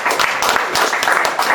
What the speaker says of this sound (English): people are cheering